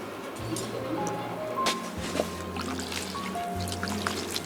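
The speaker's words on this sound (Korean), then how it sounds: "찬물에 헹구어 차게 식혀줍니다." Cold water running and trickling over cooked naengmyeon noodles as they are rinsed and chilled, a steady close wash of splashing with a few brief tonal squeaks.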